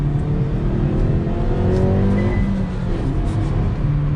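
A manual-transmission car engine pulls hard in second gear after a downshift, a loud, steady close-up drone with rising harmonics for about four seconds, nothing else over it.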